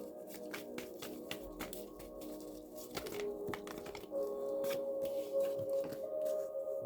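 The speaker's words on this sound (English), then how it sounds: "You see how long I'm shuffling the cards, right?" A deck of cards being shuffled by hand, with repeated crisp riffles and taps at an irregular pace, fairly faint and close, over a quiet tonal background.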